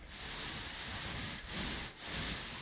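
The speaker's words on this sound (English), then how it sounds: "And we're just going to spread that paint." A paint roller spreads paint across an interior wall, producing a continuous close, loud rubbing swish broken by two brief pauses as the stroke changes direction.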